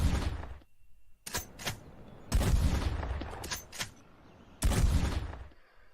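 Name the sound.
shotgun firing in the video game Red Dead Redemption 2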